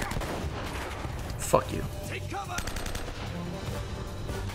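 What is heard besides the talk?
gunfire in video game Uncharted: Drake's Fortune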